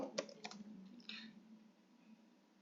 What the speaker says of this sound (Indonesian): Lalu cara ketiga yaitu dengan mengetik slides.new